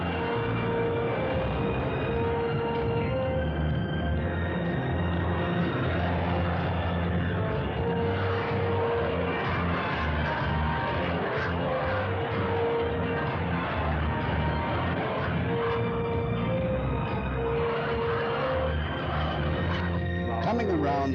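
A BD-5J home-built jet takes off from a runway, its steady turbine whine and roar sounding at moderate distance throughout, with a narrator talking over it.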